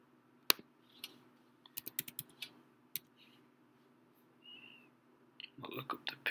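Typing on a computer keyboard while working in Rhino software: a run of light, quick key clicks in uneven clusters, faint and close, with a soft whistle-like tone and a brief busier patch near the end.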